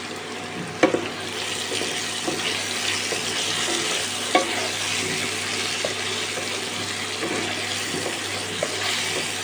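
A spoonful of whole cumin seeds hits hot oil, giving a continuous close sizzle with a few sharp pops and clicks scattered through it, with no talking.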